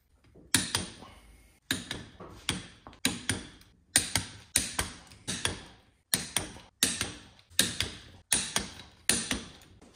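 Torque wrench clicking as big bolts on a 1996 Sea-Doo XP engine are torqued to 30 foot-pounds in sequence, a steady series of about a dozen sharp, close clicks alone.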